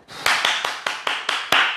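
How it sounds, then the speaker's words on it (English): A group claps hands after an at-home HIIT workout, seven or so sharp, evenly spaced claps close to the mic with no talk. "Give yourselves a clap."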